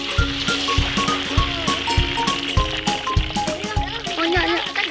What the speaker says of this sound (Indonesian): Aku lanjut menggoreng lelenya ya